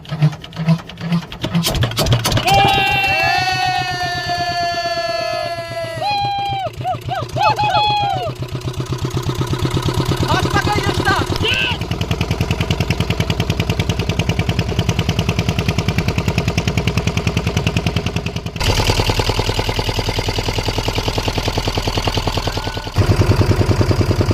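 A fishing boat engine on the Bidyadhari river in the Sundarbans starts up and settles into a steady, loud, pulsing chug that runs on alone after voices at the start.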